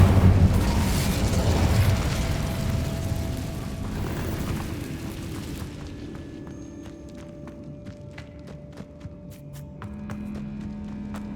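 A roaring burst of magical flame from the Incendio spell in Hogwarts Legacy, loud at first and then fading into a quieter hum with light footsteps and faint ticking sounds.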